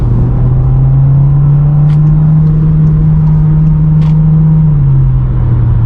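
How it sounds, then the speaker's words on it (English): A German sedan with an 8-speed transmission pulls hard under acceleration, heard from inside as a loud, steady engine drone that climbs slightly, holds, then eases off near the end, with a few faint clicks. "Let's see how that 8-speed transmission handles when we decide to step on it."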